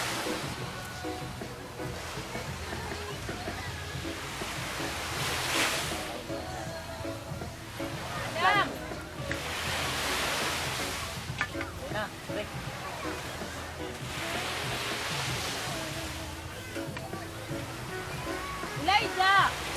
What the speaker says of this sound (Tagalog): malaki na alon